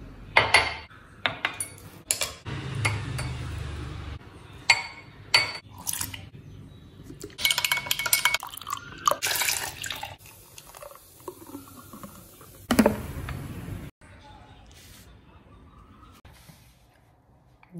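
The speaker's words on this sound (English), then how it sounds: "now I'm just gonna make some coffee for me" Coffee being made in a home kitchen: clinking cutlery and dishes, scattered taps and clatters in bursts, with stretches of quieter movement between them.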